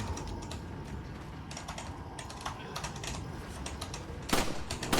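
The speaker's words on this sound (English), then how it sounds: "You can hear my buttons clanking around here because I'm having to aim with the movement keys" Computer keyboard keys clack and rattle steadily while a player aims with the movement keys in a PC port of Resident Evil 4, close and fairly quiet, with a louder burst of clattering near the end.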